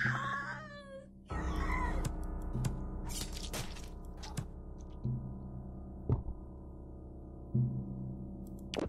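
In the video game Slayaway Camp, a kitten gives a short meow at the start, followed by game sound effects: sharp clicks, crashes and thuds scattered over a low steady hum.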